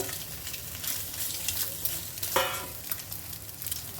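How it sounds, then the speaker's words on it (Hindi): Eggs frying on a tawa over a low flame, a close, steady soft sizzle with light crackling and one brief scrape of stirring midway. "धीमी आंच पे आपको ये अंडा ऐसा फ्राई करना है।"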